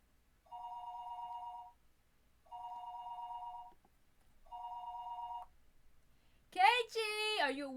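A telephone in the Higurashi visual novel video game rings in three even, repeating electronic trills separated by short pauses, followed by a person beginning to speak.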